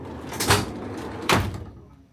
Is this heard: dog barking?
no